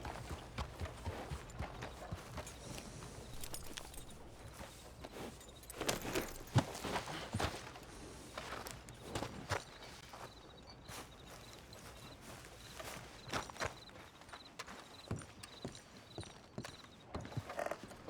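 Hooves clip-clop steadily as a horse walks in Red Dead Redemption 2, a continuous close rhythm of hoof falls with faint jangling tack and occasional snorts, game sounds layered underneath.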